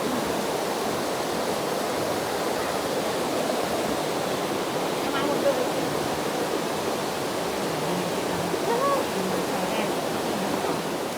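Waterfall at the Chae Son hot spring area in Lampang, a steady, broad rush of falling water that stays loud and constant throughout, with faint voices in the background.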